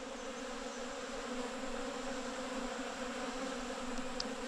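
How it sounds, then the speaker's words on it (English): Honey bees hum and buzz steadily around cleaned honey supers stacked outdoors, a continuous soft drone of many insects at a moderate distance, with no voices. "You want the supers cross-stacked so the bees can go in and go out"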